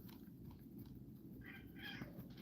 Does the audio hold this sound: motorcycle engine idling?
no